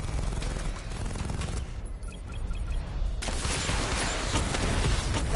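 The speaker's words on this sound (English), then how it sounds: "Missile barrage level 2 ready." Rapid missile barrage fired from the Batmobile in Batman: Arkham Knight, a dense roll of bursts and booms that dips briefly and then surges back to a loud, continuous barrage.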